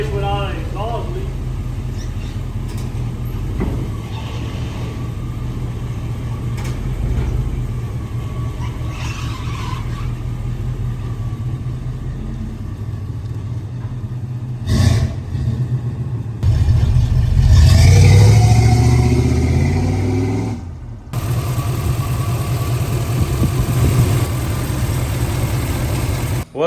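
A 1990 GMC 1500 pickup engine running through a newly installed Flowmaster exhaust: a low idle rumble swelling into a loud rev partway through, then settling back, with people talking at times.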